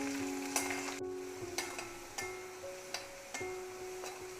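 Garlic, ginger and green chilies sizzling in a pan for apple pickle, with a soft continuous fry under repeated sharp scrapes and knocks of a spoon being stirred through, fairly quiet and close.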